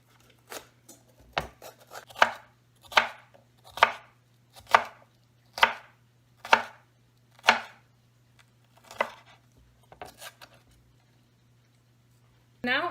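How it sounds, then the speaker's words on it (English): Knife chopping a pepper on a cutting board in a home kitchen, about a dozen firm, evenly spaced chops with a steady hum underneath, ending in a brief scrape. "That's quite a bit, so I will probably just do about 1/4 of this, but I'm still gonna chop it up."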